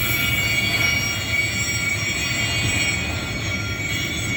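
A long freight train rolls steadily past a railroad crossing, its railcars rumbling close and loud throughout with a continuous high metallic squeal from the wheels on the rails.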